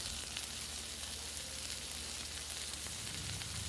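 Ginger, garlic, chilli and tomato added to onions fried until red, for a pointed gourd and prawn dish, sizzling in a steady, faint, continuous hiss with no voices.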